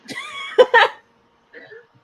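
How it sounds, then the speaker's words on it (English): A person coughs a few times in quick, rough bursts, close and fairly loud, followed after a pause by a softer short vocal sound. "I'm coughing and dying"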